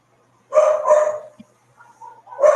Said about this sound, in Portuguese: Quem está com cachorro latindo pode fechar.